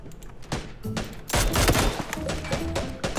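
Rapid bursts of video game gunfire, dense overlapping shots and heavy thumps that swell into a loud, sustained volley after a sparser opening, with no voices over it.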